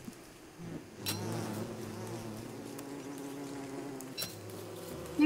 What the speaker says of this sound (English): Slowly weeding out these bees.